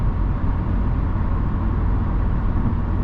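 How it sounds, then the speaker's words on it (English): Steady broadband wind and tire roar fill the cabin of a 2024 Subaru WRX Limited sports sedan cruising in sixth gear on the highway, a constant even drone with no speech. "up on the highway, you're going to get some wind noise. You're going to get some road noise."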